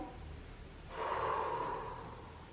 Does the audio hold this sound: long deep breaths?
yes